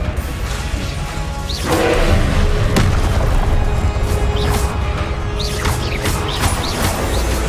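Combat in Hogwarts Legacy with the Expelliarmus spell cast amid a loud, continuous rumble, several whooshing swishes and sharp impact thuds and crashes spread over several seconds.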